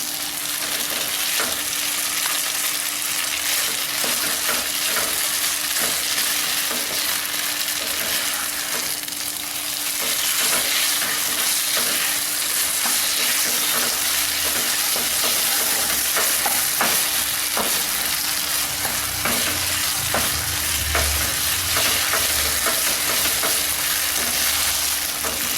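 Foxtail millet dhokla batter sizzling steadily in a hot pan as it is cooked and turned, a continuous frying hiss with occasional soft scraping and clinks throughout.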